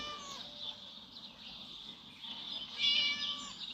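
A cat meows in the Scary Teacher video game, its thin, high cries drawn out over a steady game backdrop and swelling louder near the end.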